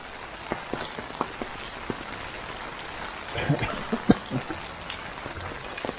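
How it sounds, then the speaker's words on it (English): Steady rain falls on a flooded road in northern Thailand, a continuous soft patter with scattered drop hits that swells briefly midway, heard alone with no talking. "Well, it's still raining."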